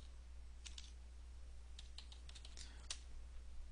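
Quiet keyboard typing in short bursts of clicky keystrokes over a low hum, entering Linux commands on CentOS 5, with brief pauses between runs.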